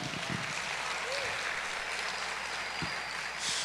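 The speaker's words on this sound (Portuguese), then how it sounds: "aplaude aí, vai, aplaude Jesus" A church congregation applauds in a broad, steady wash of clapping that fills the whole stretch, moderately loud and continuous, with a few faint voices mixed in.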